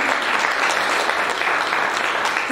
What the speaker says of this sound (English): Clap for the Lord, give him the glory.